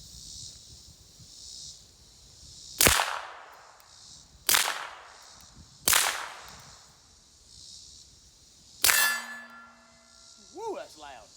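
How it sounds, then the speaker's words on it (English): A PSA Dagger pistol fires at steel targets on an outdoor range: four sharp, loud cracks a few seconds apart, each followed by a ringing clang from the struck steel, the last one leaving a sustained metallic tone, then brief faint voices. "The steel's louder than the gunshot without earplugs."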